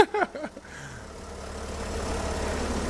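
A starter cranks briefly, then a 2019 BMW's 3-liter diesel engine catches and settles into a steady low idle that grows slightly louder.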